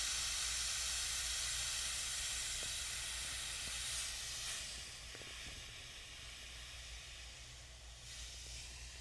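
Nitrogen hisses out of the center port valve of a refrigeration manifold gauge set, bled into a shop towel. The soft, continuous hiss tapers slightly partway through.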